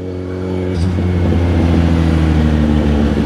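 A BMW iX electric SUV rolls close by with a steady low drone that swells slightly in level after the first second, continuous and loud, with no one talking.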